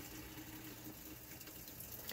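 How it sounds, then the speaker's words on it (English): Warm water pours steadily into a Maytag top-loading washing machine with a glass lid and no agitator, set to high fill, a continuous close rushing hiss with no voices. "a lot more water is going in it because it's warm water"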